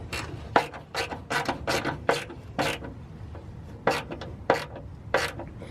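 Ratchet wrench tightening bolts while installing a MillerCAT V1 cat shield on a Toyota RAV4 Prime, heard as repeated close, rasping clicking strokes in short bursts, with pauses between groups of strokes.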